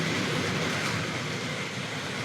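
A Hornby model railway Hall class 4-6-0 locomotive pulls a long train, a steady close whirring and rolling clatter of small wheels on track that continues throughout without talk.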